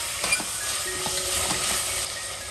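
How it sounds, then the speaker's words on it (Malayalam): Tomatoes sauté in a hot pan with a steady, close sizzle, broken by light spatula taps and scrapes. "തക്കാളിയും കൂടെ ചേർത്തിട്ട് എല്ലാം കൂടെ നന്നായിട്ടൊന്ന് വഴറ്റിയെടുക്കണം."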